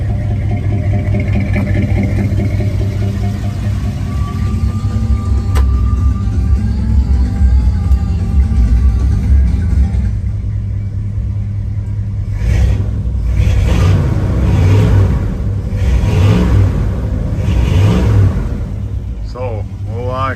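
A 1972 Chevrolet K5 Blazer engine idles with a deep, steady exhaust rumble close by, swelling briefly as it revs, with a voice occasionally heard over it.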